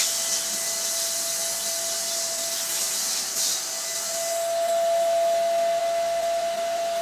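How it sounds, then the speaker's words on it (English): A vacuum cleaner pulls air out through the valve of a vacuum storage bag, a steady high-pitched whooshing hiss with a thin whistling tone that holds evenly and grows slightly louder near the end. "you need to turn your vacuum cleanser on, and then also aim your pipe at this vacuum valve"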